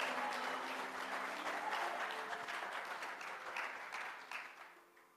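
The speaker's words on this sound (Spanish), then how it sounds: "Den un aplauso fuerte al Señor" A church congregation gives a burst of applause, many hands clapping together in a dense, even roar that slowly fades toward the end, heard from within the room with no talking.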